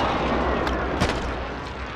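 Airstrike explosions boom and rumble continuously in Call of Duty Warzone's Halloween Zombies Royale mode, a dense roar of blasts with a couple of sharper impacts standing out, loud and close.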